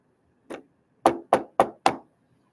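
Knuckles rap on a door, one knock and then a pause before four crisp, evenly spaced knocks, close and loud in a quiet space with no speech.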